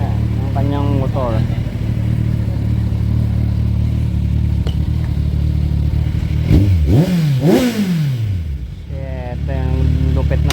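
A sport motorcycle engine idles with a throaty rumble, then revs sharply several times, the pitch climbing and falling, loud and close, with voices in the background.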